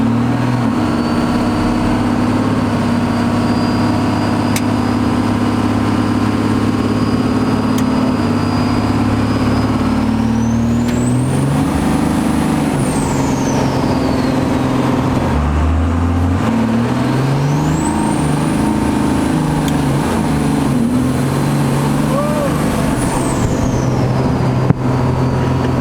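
A Ram 1500 pickup swapped to a 12-valve Cummins diesel making over 700 horsepower rumbles along, idling steadily and then accelerating twice with a rising turbo whistle, loud and close throughout.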